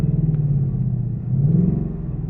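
A 2020 Ford Mustang GT V8 engine idles with a deep, steady rumble up close, swelling slightly in the middle of the clip without any sharp revs.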